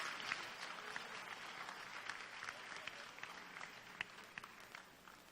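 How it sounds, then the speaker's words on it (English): A steady wash of applause from an audience honoring the Commissioner of Internal Revenue at a Bureau of Internal Revenue anniversary ceremony, dense and fairly distant, holding level for several seconds. "Another warm applause to the Trillion Commissioner of Internal Revenue."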